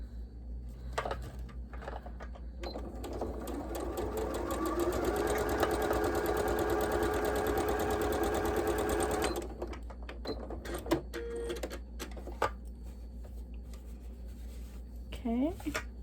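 A sewing machine stitching fabric strips for a log cabin quilt block, running in a steady whirring burst for several seconds, close and fairly loud, framed by clicks and handling noises before and after, with a person talking in between.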